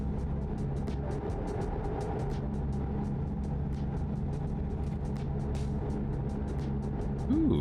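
Truck engine in the video game American Truck Simulator, a steady low rumbling drone with continuous road noise, heard up close and unbroken throughout.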